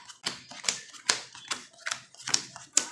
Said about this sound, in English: Shuffle it all around.